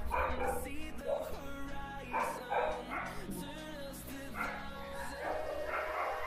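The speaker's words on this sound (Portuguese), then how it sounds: "Ignora a cachorrada. O vizinho deve estar passando com o cachorro na rua aqui. Então a cachorrada fica doida." Several neighbourhood dogs bark and yip repeatedly from the street outside, an irregular chorus of overlapping barks with some whimpering, moderately loud and slightly distant indoors.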